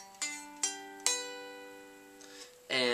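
Barred power chord on guitar, struck three times in succession with ringing sustained harmonics, then a softer muted strum and a final louder chord at the end.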